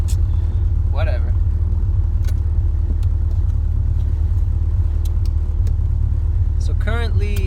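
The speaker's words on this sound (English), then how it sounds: "So currently it's idling, 20 inches of vacuum, 1100 RPM" All-motor Honda CRX with a B17 engine idling cold at about 1100 RPM, a steady close low rumble, with someone speaking briefly over it.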